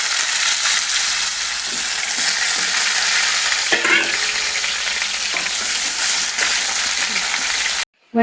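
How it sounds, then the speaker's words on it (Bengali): Potatoes fry in hot oil for a Bengali home-cooked dish, giving a loud, continuous sizzle broken by occasional scrapes and clatter of stirring close by. "আলুটা ভেজে নিচ্ছি, তেল গরম হয়ে গেছে।"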